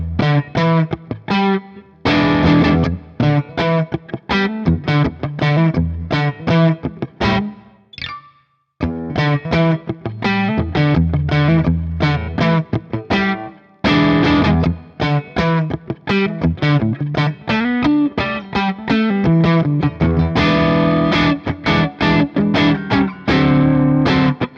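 An Airline Jetsons '59 2P electric guitar plays loud, crunchy distorted chords and riffs with effects, strummed in steady bursts with one brief pause midway, alone without talk.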